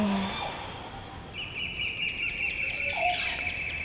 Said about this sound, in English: That's a bird called a Montezuma.